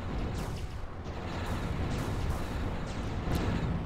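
Units firing in the strategy game Zero-K, a steady barrage of distant booming shots and blasts, dense and evenly loud, with no talking.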